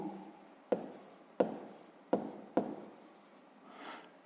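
Pen or chalk strokes writing a fraction during a maths lesson, four sharp taps followed by soft scratching, close and quiet with no talk.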